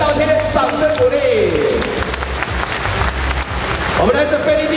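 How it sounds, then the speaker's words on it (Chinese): Applause from a large audience at a Yiguandao award ceremony in Taipei Arena, dense steady clapping filling the hall while someone speaks over a PA at the start and end. "给纽西兰回来的道亲掌声鼓励"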